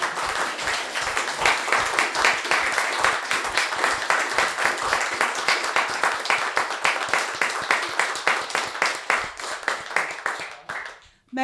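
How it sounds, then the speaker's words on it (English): A round of applause from the audience at a UKIP leadership hustings in London, loud rhythmic clapping that holds steady for several seconds before dying away abruptly. "If you could give them a round of applause"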